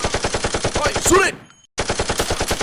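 Rapid toy Nerf gun fire during a staged fight, loud continuous clattering bursts up close, cut off by a brief silence before the burst resumes.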